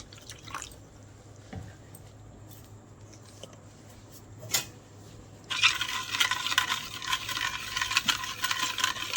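Dhokla batter being mixed in a bowl: quiet at first with a few faint clinks, then a steady, fairly close, continuous swishing and scraping as the batter is stirred.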